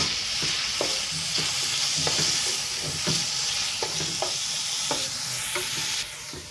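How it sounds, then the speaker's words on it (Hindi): Thinly sliced onions frying in a pan for Kashmiri dal chawal, a constant loud sizzle broken by regular spoon scrapes and taps against the pan, heard alone without talk. "और उसमें हम ये बारीक स्लाइस किए हुए प्याज हम शामिल करके फ्राई करेंगे।"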